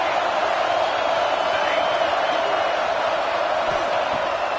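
A home crowd roars at a football game, a steady, dense wash of cheering that holds at the same level throughout, distant and unbroken, with no clear speech on top.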